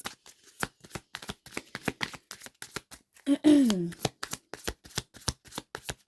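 Rider-Waite tarot cards shuffled in rapid, crisp riffling bursts, a steady run of short papery flicks close by, with a brief voice cutting in midway.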